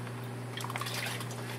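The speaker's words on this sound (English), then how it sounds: "we're going to continue to add water into this bag" Tank water is poured into a floating fish bag while acclimating aquarium livestock, giving a faint splashing, trickling pour that rises midway and fades over a steady low hum, with no voices.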